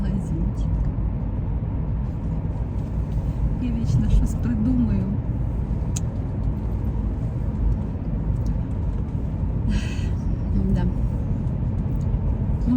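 A car drives along country roads through fields, heard from inside as a steady low road and engine rumble with faint occasional rattles.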